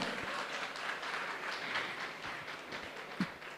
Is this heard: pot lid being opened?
no